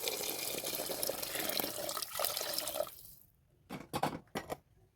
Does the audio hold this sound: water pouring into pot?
yes